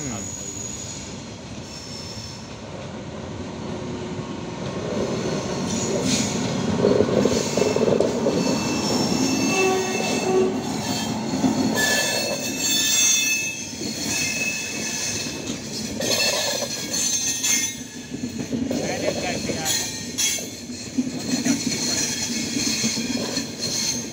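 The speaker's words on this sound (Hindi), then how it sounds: "फियात एक्सप्रेस लास्ट टाइम लखनऊ आते हुए" Kaifiyat Express 12225/26 rolling into Lucknow Junction, a steady rumble of wheels and railcars with squealing metal and clickety-clack rhythm, loud and continuous throughout, with faint voices in the background.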